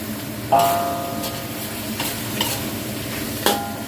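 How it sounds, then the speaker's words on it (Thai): Crispy fried tilapia pieces being stir-fried with holy basil in a pan, a continuous sizzle broken by a few sharp scraping clinks of the spatula against the pan, nearby and with no talking. "ผัดเนื้อปลา้เข้ากันค่ะ"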